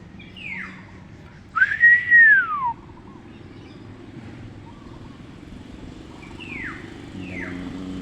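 Human whistling imitating bird calls outdoors: a few short descending whistled notes, one longer bright swooping whistle near the middle, then two more brief slides, over a steady low background hum.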